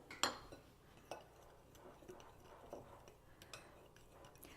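Dry gluten-free fish batter ingredients, baking powder and salt, stirred together in a bowl: a sharp utensil clink at the start, then softer scraping and tapping strokes at an uneven rhythm, close and fairly quiet.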